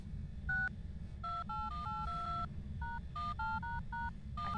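A phone in the Phasmophobia video game sounds a run of paired dialing tones, about a dozen distinct beeps in uneven rhythm over a low steady rumble.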